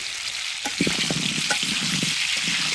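Potatoes frying in hot oil for aloo dum, a steady close sizzle with brief stirring clatter and bubbling pops running throughout.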